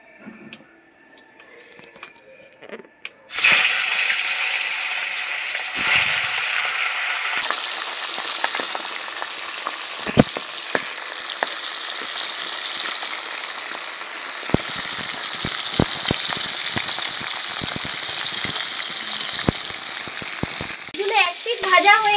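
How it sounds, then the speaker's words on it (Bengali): Pieces of aar fish dropped into hot, salted oil in a heated wok erupt into a loud, continuous sizzle after a few quiet seconds, crackling steadily with occasional sharp pops and clicks throughout. "মাছগুলো আমি ভেজে নিচ্ছি।"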